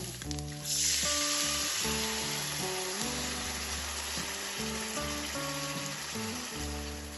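Soaked atap rice stirred into frying ginger and onion for a home-style rice and egg dish, giving a loud, steady sizzle throughout with background music running underneath.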